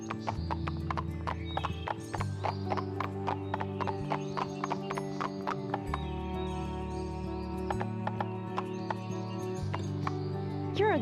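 Steady clip-clop of horse hooves with a neigh, over looping music with tonal chimes from the PlayStation 2 game Barbie Horse Adventures; birds chirp faintly now and then.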